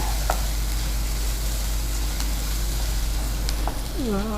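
Onions fry in oil with salt for a vegetable roll filling, a steady, close sizzle with a few faint clinks over it.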